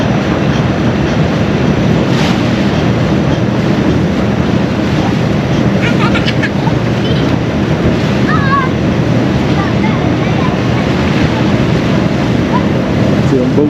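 Strong wind buffets across an open ferry deck in the Outer Banks of North Carolina, a loud, constant roar mixed with water rush and vessel rumble, with brief voices underneath.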